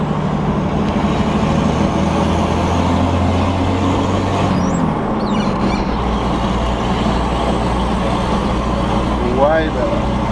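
A Toyota Land Cruiser 60 series with its exhaust cutout open and a new turbo gives a loud, continuous low rumble that stays steady throughout, with voices faintly audible over it.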